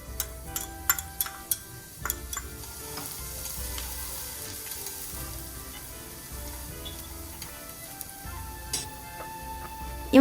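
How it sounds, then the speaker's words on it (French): Garlic fries in olive oil in a hot pan, giving a soft continuous sizzle with scattered crackling pops and a few utensil ticks, heard close with no talking. "On fait griller l'ail"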